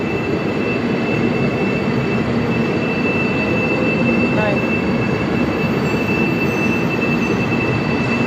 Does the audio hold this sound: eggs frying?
no